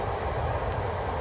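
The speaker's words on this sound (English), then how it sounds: "just let the train go past" A train rolls past a garden with vegetable pots, filling the air with a steady, broad rumble that stays level and fairly loud throughout, with no one talking.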